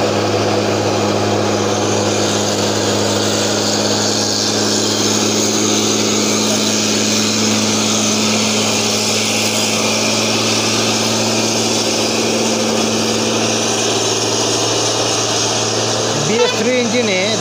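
A BS3 truck engine, hauling an overloaded trailer, drones steadily as it climbs a ghat mountain road, a loud, constant low rumble with no break throughout.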